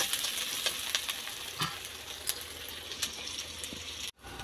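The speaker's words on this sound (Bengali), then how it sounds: "তো আমার তেলটা গরম হয়ে গেছে, এবার পেঁয়াজ কুচিটা দিয়ে দেবো" Chopped onion frying in hot oil, a steady dense sizzle with crackling pops and spits throughout, close and continuous, with a brief dropout near the end.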